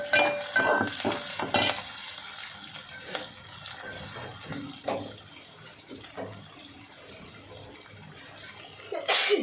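Tempering frying in a pan while godhuma ravva upma is made, a continuous sizzle with stirring clatter and a few sharper scrapes, fairly close, no voices.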